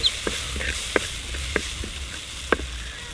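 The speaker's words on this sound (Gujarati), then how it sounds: "હવે આપણા દેશી ટમેટાં છે એ નાખી દઈશું" Green garlic sizzles in a pan as local tomatoes go in, a low steady fry with a few sharp crackles and pops scattered across it, close and moderately quiet, with no talking.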